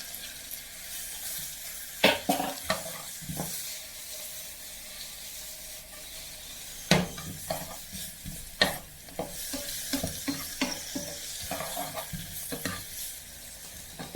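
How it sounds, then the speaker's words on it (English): Minced garlic sautéing in a pan for chicken fricassée: a steady, soft sizzle of frying with scattered clicks and scrapes of a utensil stirring against the pan, fairly quiet and close, with no talking. "Saute until they are a bit brown, maybe."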